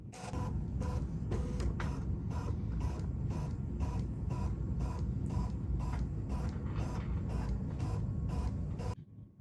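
A Bernina 990 sewing machine scans fabric with a steady mechanical whir pulsing in even, rapid beats, close and continuous until it stops abruptly near the end.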